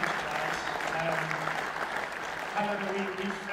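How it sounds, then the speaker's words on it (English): Audience applause at a fursuit dance competition at a convention, a steady wash of clapping from a crowd that holds for a few seconds, with faint voices mixed in. "can we just have a big round of applause?"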